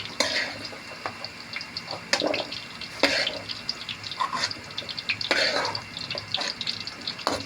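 Onion and garlic fry in a pan for menudo, giving a sizzle mixed with stirring scrapes, clinks and watery splashes, with one sharper sound breaking in.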